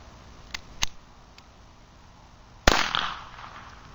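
A Beretta 21A pistol fires a single Remington Thunderbolt round, a sharp loud crack that decays into a short ring, preceded by a couple of small faint clicks of handling.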